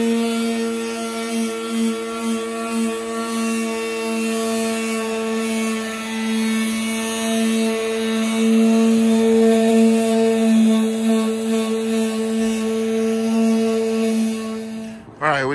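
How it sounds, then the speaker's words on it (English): Bodywork on a Honda Prelude is sanded, likely with a power tool, giving a steady, near mechanical whine with strong tonal hum that runs continuously before cutting out abruptly at the end. "Back to sanding."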